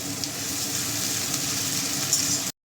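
Half-crushed garlic frying in a pan for a chicken curry with potatoes, giving a steady, close sizzle that runs unbroken for about two and a half seconds before cutting to silence.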